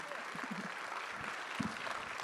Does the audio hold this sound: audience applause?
yes